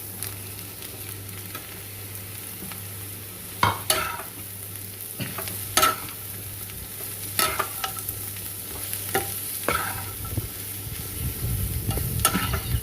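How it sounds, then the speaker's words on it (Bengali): Mushrooms frying in spiced oil in a pan, a steady soft sizzle with scattered sharp clatters of a spoon stirring, close and alone, the sizzle swelling louder near the end. "এখন আমি আমার মাশরুম অ্যাড করব।"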